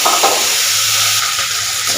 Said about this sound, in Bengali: এটা মশলাটা ভাজা ভাজা হয়ে গেল।